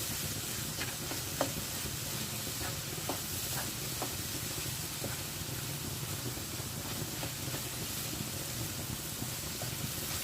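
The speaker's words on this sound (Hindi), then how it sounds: "इसे बहुत अच्छे से भुनें।" Besan roasting in ghee in a pan for ladoo, stirred steadily, giving a soft continuous sizzle with light scraping ticks from the stirring and no talking.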